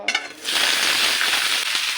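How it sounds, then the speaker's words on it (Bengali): Ridge gourd pieces hitting hot oil in a wok: a few short clatters, then a loud, dense sizzle bursts up and holds steady to the end. "ধুন্দুলগুলো ভেজে নেব"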